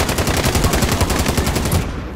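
Loud, rapid automatic gunfire bursts in Call of Duty: Modern Warfare, dense and close, in a continuous rattling stream that cuts off just before the end.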